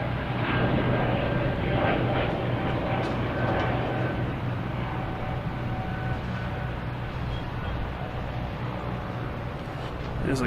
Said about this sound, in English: We got a Southwest coming in from Dallas, a 737 MAX 8.